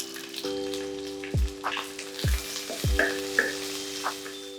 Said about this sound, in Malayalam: ഇനി നമുക്കിതിലേക്ക് 6 അല്ലി വെളുത്തുള്ളി, ഇഞ്ചിയുടെ ചെറിയ കഷ്ണം, 4 പച്ചമുളക് നടുവേ കീറിയത്, വേപ്പില, ഇത്രയും സാധനം ഇട്ട് നമുക്കൊന്ന് സോട്ട് ചെയ്തെടുക്കാം